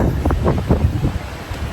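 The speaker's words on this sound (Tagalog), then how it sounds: "Grabe yung hangin." Strong wind buffets the microphone in a loud, continuous roar with gusty low rumbling.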